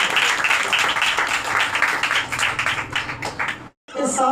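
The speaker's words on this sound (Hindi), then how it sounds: "पाक रूह के लिए जोरदार तालियां।" Loud congregational clapping in a church service honoring the Holy Spirit, a thick continuous patter of many hands that fades and stops briefly before voices and sound resume.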